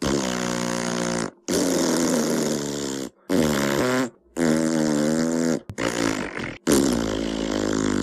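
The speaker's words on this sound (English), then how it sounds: "Here are some farting noises." A loud run of long, buzzing fart noises, five or six drawn-out blasts in turn split by short silences, each wavering in pitch and close up with no talk.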